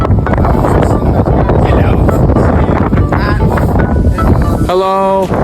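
Strong wind on the Detroit River on a cold day, loud constant buffeting roar on the microphone throughout, with a brief tonal whine near the end.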